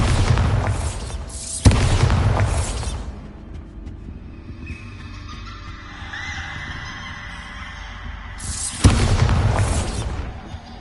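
Bombarda explosion spells cast in the Hogwarts Legacy video game on PS5: two loud booming blasts several seconds apart, each fading into a rumbling, crackling tail with quieter game ambience in between.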